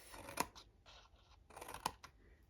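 Scissors cut through cardstock in two crisp, close snips about a second and a half apart, with faint handling rustle in between.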